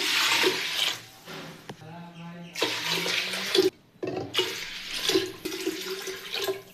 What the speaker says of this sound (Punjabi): ਜਿੰਨੀ ਦਾਲ ਸੀਗੀ ਉਹ ਤੋਂ 4 ਗੁਣਾ ਆਪਾਂ ਪਾਣੀ ਪਾਵਾਂਗੇ